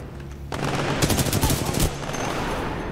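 A sudden burst of rapid automatic gunfire erupts in Titanfall 2, loud and rattling for over a second before dropping back to a rumbling game background.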